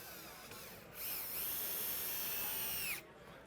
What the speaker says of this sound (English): I'll put a few screws in here and we'll get good to go.